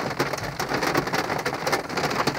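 Heavy rain and hail pour down steadily, a dense continuous hiss of drops pelting surfaces with sharp scattered impacts throughout, loud and close with no voices.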